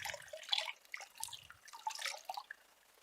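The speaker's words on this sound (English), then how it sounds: "pour water onto it" Clean water is poured from a vessel over a raised leg during a foot soak, making soft, faint splashes and trickles in a quiet room. The sound comes in a few uneven bursts with no voices.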